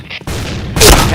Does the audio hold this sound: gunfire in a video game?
yes